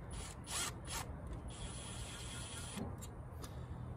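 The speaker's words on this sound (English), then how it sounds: "So now I'm going to go through and take all these bolts out." A 1/4 inch impact wrench spins bolts out of a Ford F250 engine during EGR removal, giving short mechanical whirring bursts in quick succession, then a longer steady run and a few more brief bursts, fairly close.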